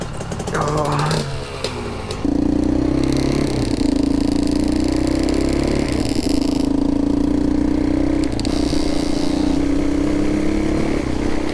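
A Suzuki LT230E Quadrunner ATV engine runs loud and close, holding a steady droning idle with slight rises in pitch, plus some scraping and handling noise at the start.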